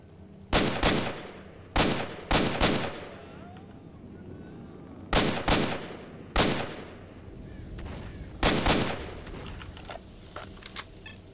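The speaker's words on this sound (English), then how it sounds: "I hear gunshots." Sharp, loud gunshots in the video game STALKER crack in scattered bursts of two or three, separated by short pauses, over a low background hum.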